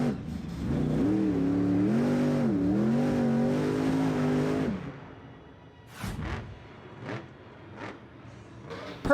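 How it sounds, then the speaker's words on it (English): A monster truck at a 2021 Monster Jam show in The Dome at America's Center, St. Louis, roars loudly for several seconds with rising and falling engine revs, then drops away to a series of sharp whooshes and bangs. "complete control of that truck at all times"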